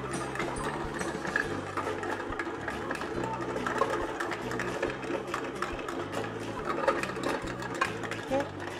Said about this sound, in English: Once the dough is finished mixing.